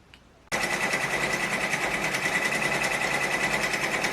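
Embroidery machine stitching a butterfly design onto a jacket back, starting abruptly and then running in a fast, steady mechanical rattle, close and continuous.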